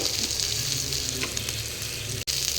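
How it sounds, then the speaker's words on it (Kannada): Semolina-coated fish fries in a pan with a loud, steady, close sizzle that holds throughout, broken only by a split-second dropout near the end. No one speaks. "ಈ ಥರ ಫ್ರೈ ಮಾಡ್ಕೋಬೇಕಿದೆ"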